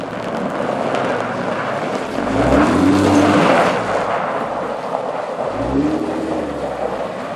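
Jeep JK fitted with a Rough Country aftermarket axle-back exhaust, heard from outside: a loud steady rumble with two rising revs swelling and falling back to idle.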